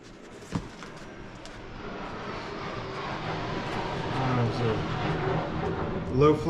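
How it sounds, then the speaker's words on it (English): A low-flying F-16 fighter jet passes overhead, a broad rising roar that swells steadily toward the end with a sharp thump early on, all outdoors over a quiet rural spot. "Low-flying F-16, if you could hear that."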